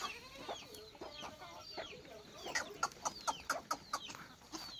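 Desi village chickens cluck and chatter in a farmyard, first scattered calls, then a quicker run of sharp, rhythmic clucks toward the end, moderately near and clear, with no speech.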